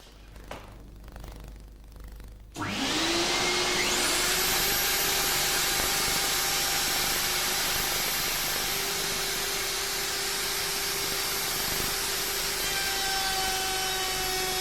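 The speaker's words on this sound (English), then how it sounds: "the router is placed on the workpiece and switched on" Electric wood router with soft start switched on over a workpiece: a quiet start, then a loud, steady high-pitched whine and cutting roar that holds evenly to the end, with no talking.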